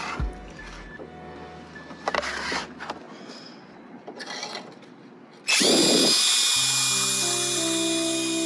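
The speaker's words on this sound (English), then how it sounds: "I'm just gonna go ahead and drill in a little bit just to clear my way" A power drill bores through a hole on a Dodge Charger to clear debris before fitting a Vicrez V5R rear wing spoiler; short bursts give way to a loud, sustained close-up whine.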